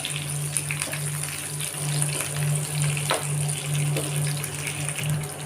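Whole spices and curry leaves fry in hot oil for a Madurai-style mutton varutha curry, giving a steady, close sizzle and hiss with no one speaking.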